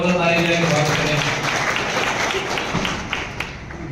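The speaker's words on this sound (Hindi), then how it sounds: "जोरदार ताली बजा के स्वागत करें" Village crowd applauding at an election campaign event for a BJP candidate in Kurukshetra, with dense clapping heard under loud voices and a public-address hum, fading slightly toward the end.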